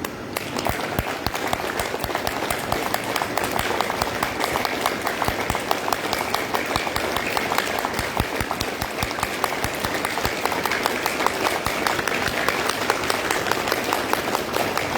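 A group keeps up steady, dense hand clapping as part of a yoga exercise, a continuous rapid patter that stays loud and even throughout with no pauses.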